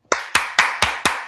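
Six sharp hand claps ring out alone at an even, steady pace, each one a crisp close smack.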